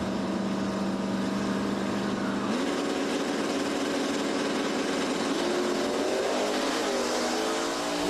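Hot rod drag car, alongside a 1966 Ford Fairlane, launching at a drag racing event, a loud sustained engine roar that shifts pitch partway through and climbs steadily as the car accelerates.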